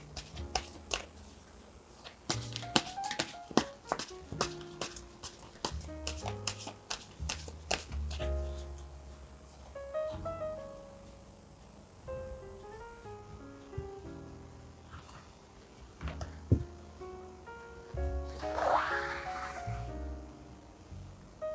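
Tarot cards being shuffled and drawn, with a long run of crisp, rapid riffling and flicking followed by scattered slides and taps as cards are laid out, then a brief burst of rustling near the end.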